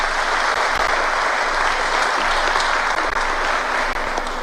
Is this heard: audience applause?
yes